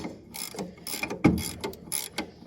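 A Deere wrench works on a John Deere 7720 combine during hydrostat repair, giving a run of close ratcheting clicks and metallic clanks with one sharper knock midway, all fairly quiet.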